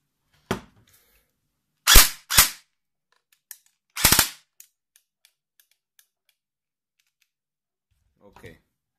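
A converted airsoft AK fires a few sharp, close shots, some single and some in quick doubles and short bursts, separated by silence, with a faint rustle near the end.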